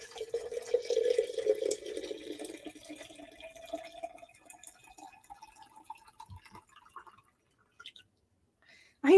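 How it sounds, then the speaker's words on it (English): Hot herbal tea pours through a strainer into a large mug, a trickling stream with changing pitch as the mug fills, then thinning to a few drips before stopping. "And we're going to pour it in."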